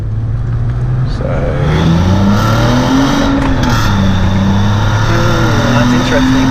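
BMW E46 330ci with SMG gearbox accelerating hard in first gear under manual shifting, engine note rising and falling through shifts, loud and close from inside the cabin, with people talking over it.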